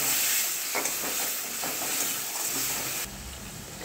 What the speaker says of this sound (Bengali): এবারে আমি মশলাটা এতে আমি একটু কষে নেব।